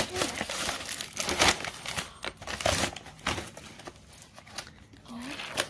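Birthday present wrapping paper crinkles and tears in quick bursts as a package is opened at a child's birthday, with voices talking over the rustling.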